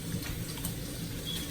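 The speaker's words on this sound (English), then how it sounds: "I am gonna rinse my hands just in one moment" Kitchen tap water running steadily while hands are rinsed during steak taco prep, a soft continuous splashing wash that lasts the whole short moment without any talk.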